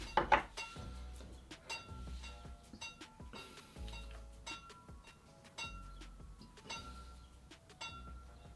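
A cocktail strained into a coupe glass, with a series of light clinks and taps of metal on glass at an irregular pace, close and fairly quiet.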